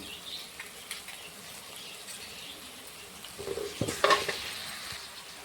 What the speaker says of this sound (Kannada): ಇವಾಗ ಫುಲ್ ಖಾರ ಟೊಮೊಟೊ ಎಣ್ಣೆಗೆಲ್ಲ ಫ್ರೈ ಐತ್ರಿ.